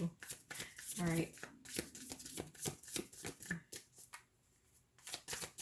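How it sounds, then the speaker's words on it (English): Large tarot cards being shuffled with rapid riffling and flicking, close and fairly loud, while someone talks over the shuffling throughout. "I need to find a better way to shuffle these cards because my hand hurts."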